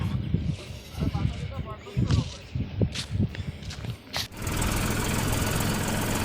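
A tractor engine chugs on the way home after unloading a trailer of groundnut crop, first under scattered knocks and movement noises, then settling into a steady, close running drone.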